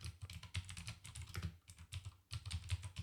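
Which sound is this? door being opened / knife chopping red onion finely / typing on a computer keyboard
typing on a computer keyboard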